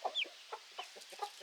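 A barred rock hen clucks in short, soft, irregular bursts close to the microphone, with one higher squeak near the start, all quiet and without talk.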